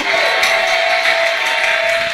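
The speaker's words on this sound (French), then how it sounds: "Est-ce qu'on peut lui donner une acclamation?" Congregation acclamation in a church service, a loud, continuous crowd roar of cheering and clapping with a sustained tone running beneath it.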